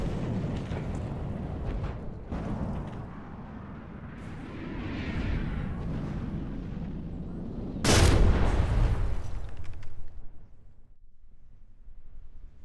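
Weapons firing in the From the Depths naval combat game: rumbling booms and blasts build through the clip, with a sharp loud burst near the end that decays into quieter rumble.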